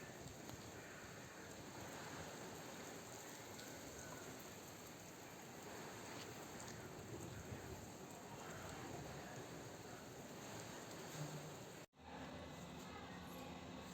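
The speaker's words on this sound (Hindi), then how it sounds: "बारिश हो गई शुरू," Steady night rain pouring down in a dense, continuous hiss, with a brief cut near the end before the downpour resumes.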